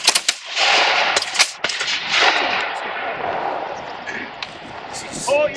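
English Civil War reenactors from the Sealed Knot fire a musket volley at a display at Hinton Ampner: several sharp, loud outdoor shots crack in quick ragged succession and echo, with voices heard among the blasts.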